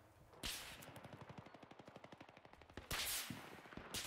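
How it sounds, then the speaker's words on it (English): Battlefield 3 machine-gun fire rattles in a long, rapid, steady burst. Louder bangs come at the start and near the end, and the whole exchange sounds fairly distant and muted. "I'm getting shot at"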